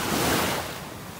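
Ocean surf breaks on a beach in North Naples, Florida, a broad rushing wash that swells and then eases, with some wind buffeting the microphone.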